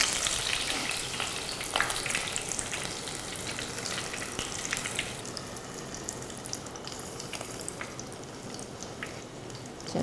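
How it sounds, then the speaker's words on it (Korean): Kawariage, Japanese-style mixed fritters, deep-frying in hot oil: a steady, dense sizzle and bubbling crackle that stays loud and continuous from start to finish, with no one talking. "튀기도록 하겠습니다."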